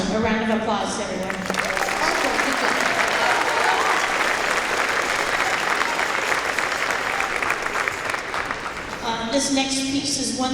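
A crowd at a school district band festival breaks into dense, loud applause that holds steady and then tapers off. A voice speaks briefly at the start and again at the close.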